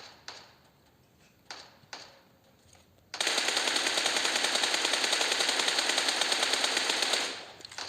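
In PUBG Mobile, a few isolated single shots are followed by a sustained burst of automatic gunfire raking a wall, loud and rapid for about four seconds before cutting off.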